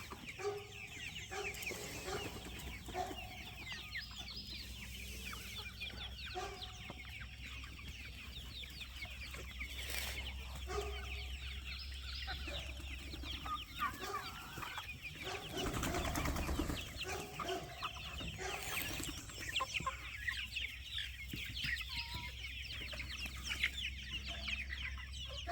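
Chickens clucking among a flock of newly released birds outdoors, faint scattered clucks and calls over a low steady background rumble.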